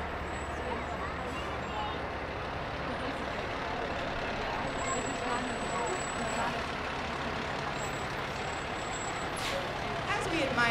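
Trucks rolling slowly in a parade, low engine rumble with a hiss of air brakes and a brief high beep, under a constant murmur of the surrounding crowd and voices.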